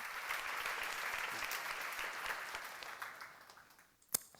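A seminar audience in a church lecture setting applauds, a steady wash of clapping that fades away before a couple of sharp knocks at the end.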